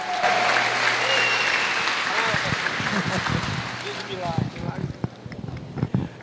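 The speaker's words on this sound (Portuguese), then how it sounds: "vamos continuar aplaudindo, recebendo o pastor José com uma forte salva de palmas para Jesus" A church congregation applauds in a strong burst that gradually thins into scattered claps, with a voice speaking over the clapping throughout.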